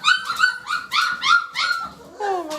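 Gerberian Shepsky puppies yip, whimper and bark in quick overlapping bursts, several high-pitched voices close by and fairly loud, with no talk.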